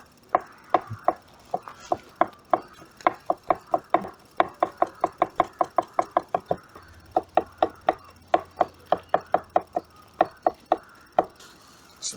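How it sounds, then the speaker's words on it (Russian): A knife chops three garlic cloves finely on a cutting board, a long run of crisp, close, even knocks at a brisk pace with brief pauses between bursts, and no talking. "Чеснок мелко порубили, отправляем его к мясу."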